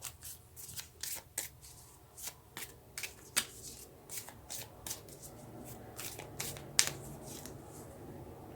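Tarot cards handled and dealt out in a spread: a close run of crisp riffling flicks and soft slaps, irregular and quick, with a couple of sharper snaps near the end and no talking.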